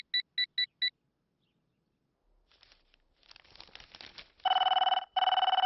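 A telephone rings in quick electronic beeps, first a short burst of four faint chirps, then after a pause of rustling, loud sustained ring tones that cut in twice.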